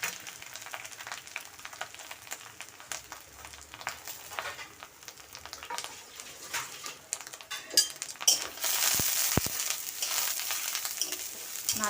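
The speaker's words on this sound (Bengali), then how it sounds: "নারকেল কুড়া হালকাভাবে ভেজে নেব।" Grated coconut fries in a pan with spices in oil, a constant sizzle layered with frequent clattering stirs of a spoon against the pan, growing louder toward the end.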